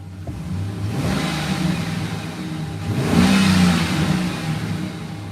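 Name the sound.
car engine revving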